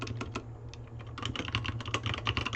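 Quick, close clicking of keys as notes are typed on a computer keyboard, a short burst of rapid, uneven taps that thicken toward the end, with no voices.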